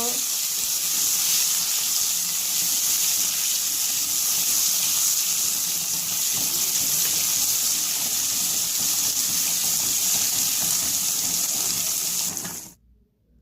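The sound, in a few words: frying cardamom-cinnamon powder and ginger-garlic paste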